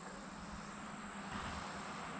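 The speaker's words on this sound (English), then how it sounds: "There's a frog singing over there." Frog calling near a creek, a steady high-pitched trilling drone that runs unbroken throughout, faint and somewhat distant, with no talking.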